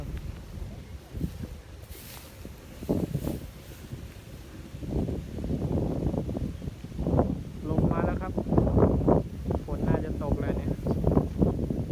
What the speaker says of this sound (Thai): ลมมาแล้ว ฝนจะตกไหม